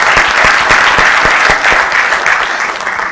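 An audience in Tejpal Auditorium breaks into loud, dense applause at a 60th birthday celebration, with many hands clapping close and continuously and sharp individual claps standing out.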